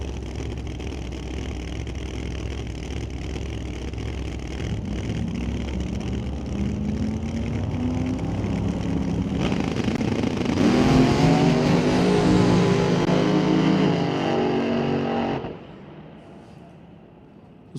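A blue Corvette race car in qualifying drives past with an engine that builds from a low rumble to a loud, revving roar, then cuts off sharply, leaving quieter background noise.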